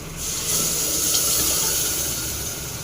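Cooked lentils (dal) being poured into vegetable sambar in a home kitchen, heard as a steady, close, continuous liquid pour and splash lasting a few seconds with no talk.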